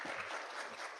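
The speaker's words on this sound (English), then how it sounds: "Round of applause." A brief burst of clapping from an audience, dense and steady for about a second.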